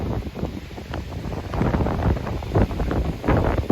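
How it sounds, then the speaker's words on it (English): Strong wind inside a tornado buffets the microphone in loud, gusty bursts, a continuous roaring rush with irregular surges and flapping debris noise close by. "Big wind. Big wind."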